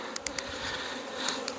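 Forager honey bee buzzing at a hive, a close, steady insect drone with a few brief ticks and flickers, fairly faint and alone without speech.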